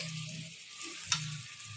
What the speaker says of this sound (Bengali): সর্ষের তেল দিলাম আর পেঁয়াজ ফোড়ন দিলাম আর কালো জিরে দিয়েছি